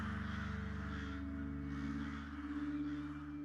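Several crows caw noisily overhead in a leafy wood, harsh repeated calls overlapping in a steady chorus, fairly close and alone with no talking.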